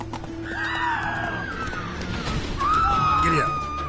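A horse from The Witcher 3 neighs and whinnies twice, with hoof clatter and game ambience running steadily beneath it at close range.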